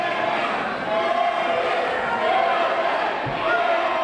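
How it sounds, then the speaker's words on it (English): A wrestling crowd at a New Year's event cheers and shouts loudly and continuously, a dense roar of voices that swells and dips over a few seconds. "the more he does that, the louder the crowd gets"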